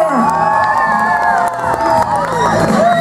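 A crowd at a village festival concert cheers and whoops loudly and continuously, with children's shouts mixed into the noise.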